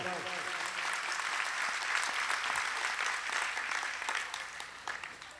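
Audience applause at a Jain Panchkalyanak festival gathering, a sustained burst of many hands clapping loudly throughout, with a voice speaking over it at the start.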